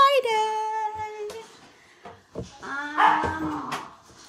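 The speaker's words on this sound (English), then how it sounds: "Oh goodness, my puppy is excited for Friday too." An excited puppy lets out high whimpers and yips, then short barks, close and moderately loud with pauses between calls.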